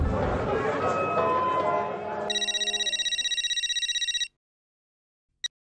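A telephone rings in a TV comedy scene, first buried under lively crowd chatter and music, then sounding alone as a loud, steady electronic trill for about two seconds before it stops, followed by a short beep.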